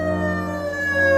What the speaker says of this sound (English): It's as long as you have a siren on there and it produces a sound.